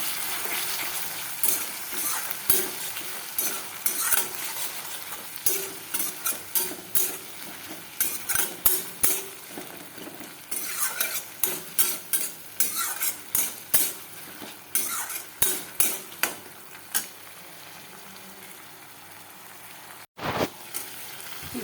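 Chopped liver, gizzard and neck with potatoes being sautéed with turmeric, salt and chili powder. A spoon scrapes and clatters against the pan in quick repeated strokes over a soft sizzle, close by, with one brief pause near the end.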